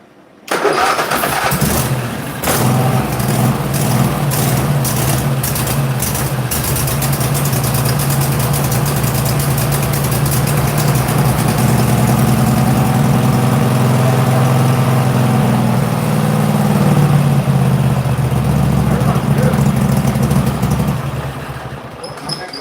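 Husqvarna LG2654 riding lawn mower engine cranks and catches, then idles steadily for a long stretch close by with a low, even drone before cutting out near the end.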